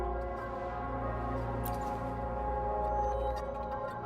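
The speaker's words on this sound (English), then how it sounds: "It's the bell." A deep bell tolls in the video game Wuthering Waves, a sustained resonant ring with layered humming overtones that hangs evenly through the clip, with a few faint high chimes above it and no voices.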